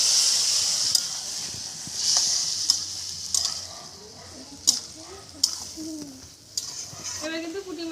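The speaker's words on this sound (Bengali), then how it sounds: "সামান্য একটু জল দিয়ে দিচ্ছি।" A little water hits a hot pan holding a sugar-sweetened mixture, giving a steady steamy sizzle while a utensil stirs and scrapes, with sharp clinks now and then and a voice speaking briefly.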